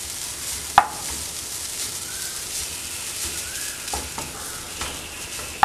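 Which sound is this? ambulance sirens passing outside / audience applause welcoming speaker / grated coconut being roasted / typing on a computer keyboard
grated coconut being roasted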